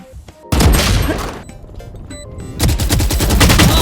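Gunfire in the video game Valorant: loud, close bursts of rapid automatic shots in two clusters separated by a short lull, crisp and punchy, with no speech over them.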